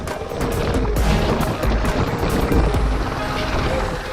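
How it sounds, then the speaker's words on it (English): A helicopter's steady rotor roar and engine drone, loud and continuous throughout, with a low thumping pulse beneath. "just flying in a helicopter never gets old."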